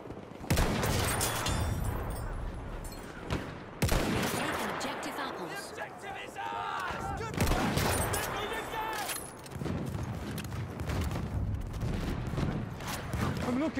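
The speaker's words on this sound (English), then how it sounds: "Look out, machine gun." Machine gun fire in a combat video game comes in repeated loud bursts, with someone talking excitedly over the shooting.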